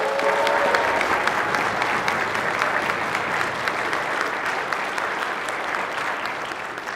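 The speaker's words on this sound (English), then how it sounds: "put a round of applause together for Genshu Price." An audience in a Senate chamber claps steadily and loudly, a dense even wash of applause that holds for the whole stretch and fades slightly toward the end.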